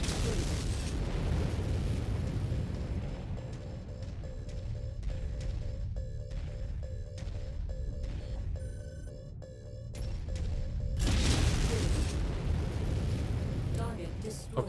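A target blows up in the MechWarrior 5: Mercenaries video game, heavy booming blasts and rumbling over game music, with a burst of mechanical clatter and a loud final swell of explosion noise near the end.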